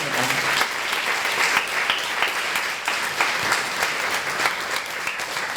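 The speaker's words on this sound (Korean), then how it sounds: "다시 한번 이경선 교수님과 서울 비르투오지 챔버 오케스트라의 큰 박수 부탁드립니다." Sustained, even applause fills a hall at the 19th Kyung-Ahm Prize ceremony for the Seoul Virtuosi Chamber Orchestra, a large audience clapping densely and continuously without a break.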